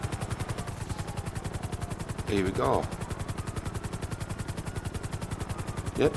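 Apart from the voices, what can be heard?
helicopter in the video game GTA 5 Online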